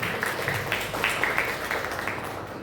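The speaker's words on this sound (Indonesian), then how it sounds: "Tepuk tangan juga boleh" Scattered clapping from an audience at a school ceremony in Indonesia, a steady patter of hands with brief louder bursts, fairly distant and moderate in level.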